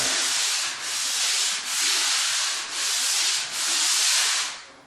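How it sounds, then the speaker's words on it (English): Drywall joint compound being lightly sanded by hand on a wall, a steady loud hiss of abrasive rubbing in five long back-and-forth strokes with brief dips between them, close up and alone. "just lightly sand and get that line out if you have a line"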